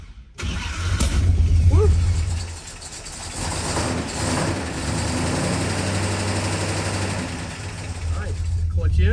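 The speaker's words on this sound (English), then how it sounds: "I say we try to drive it out of the shop now" A 1958 Plymouth barn find, unrun for 30 years, cranks and starts, then its engine idles and revs unevenly as it rumbles loudly out of a shop, with a voice cheering briefly over it.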